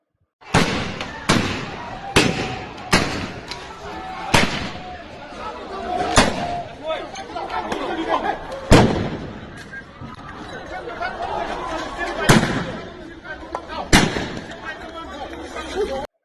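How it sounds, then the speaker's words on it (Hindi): Gunfire during riots in Manipur, a string of sharp, echoing bangs spaced a second or two apart, loud and fairly near, with crowd voices and shouting underneath between the shots. "आपने देखा कि कैसे समय समय पर फायरिंग हो रही है"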